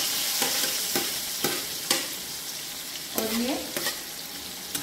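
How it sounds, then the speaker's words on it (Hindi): Sliced onions frying in hot oil with mustard seeds and cumin: a dense, loud, continuous sizzle, with rhythmic scrapes and knocks as a spoon stirs, and a single short spoken word. "तो अब हम ये ऑनियन गोल्डन ब्राउन होने तक फ्राई करेंगे।"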